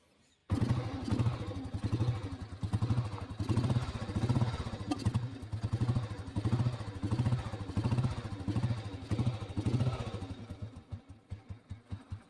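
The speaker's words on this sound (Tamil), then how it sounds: "இப்போ வந்து வண்டி எலக்ட்ரானிக்கில் ஓடிட்டு இருக்குது" Old petrol Royal Enfield Bullet single-cylinder motorcycle idling on electronic ignition, a steady low thumping beat with mechanical clatter, close and continuous, after a brief quiet start.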